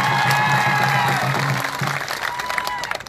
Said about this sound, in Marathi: त्यांच्यासाठी जोरदार टाळ्या करा